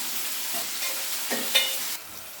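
Chopped onions and tomato sizzling in oil in a kadai, stirred now and then with a spoon scraping through, a steady close fry with a few louder bursts before it eases off near the end.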